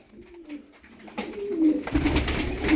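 Tumbler pigeons coo in soft, low repeated phrases close by, with rustling and a rising background of wing and movement noise.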